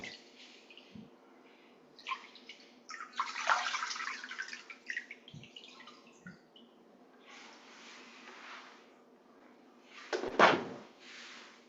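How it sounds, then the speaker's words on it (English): Water sloshes and splashes in a foot soak basin as feet are rinsed, with scattered soft swishes, a few dull knocks against the basin, and a louder splash near the end, close and mostly quiet. "rinse our feet"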